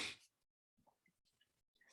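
A single sharp sneeze bursts out at the very start, close and loud, during an online school training session, followed by a pause and then soft, quiet shuffling or breathing noises.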